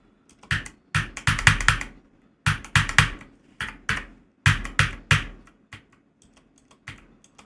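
A code is typed on a PC computer keyboard during a software installation, heard as close, crisp keystrokes in quick clusters separated by short pauses, with no voices.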